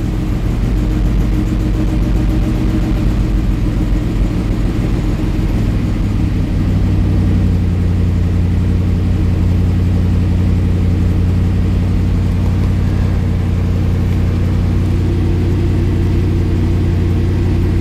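Triumph Stag engine warming up on a cold day with the choke being eased, a steady, loud, close idle with a low rumbling drone that shifts slightly in pitch partway through.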